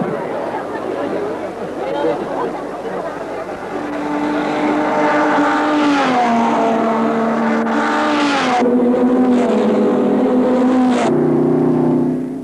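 Ferrari Grand Prix race cars roar close by, their engine notes rising and falling as they accelerate and shift, loud and continuous throughout, with a voice talking over the noise.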